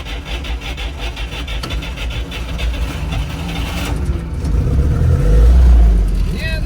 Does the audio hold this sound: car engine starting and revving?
yes